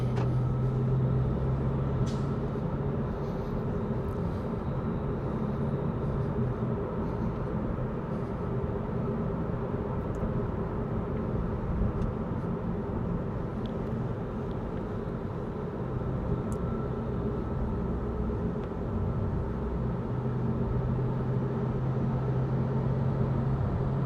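A 2025 Audi RS3 pulls away in comfort mode, its engine a steady low drone heard from inside the cabin, with road rumble and no speech.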